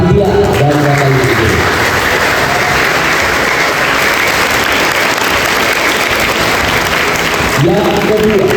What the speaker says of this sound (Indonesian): Berikan tepuk tangan untuk panitia dan Bapak Ibu.